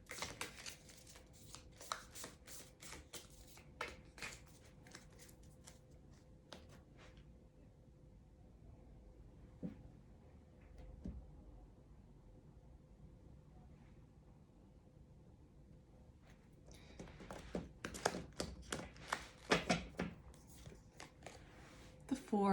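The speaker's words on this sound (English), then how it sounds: "I will shuffle these just for a couple more moments" A tarot deck is shuffled by hand in rapid rustling, riffling bursts, busy at the start, quiet and sparse in the middle, then picking up again near the end, close and soft.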